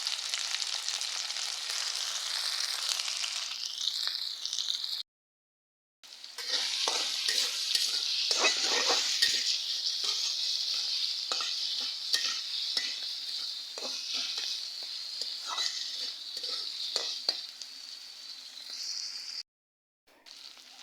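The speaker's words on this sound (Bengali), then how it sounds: "আর দিয়ে দিব কেটে রাখা কাঁচামরিচ, পেঁয়াজ। তো এগুলো একটু কষাইয়ে" Green chillies, onion and shrimp sautéing in a pan: a loud, steady sizzle runs throughout, broken by repeated scraping stirs and two brief moments of silence.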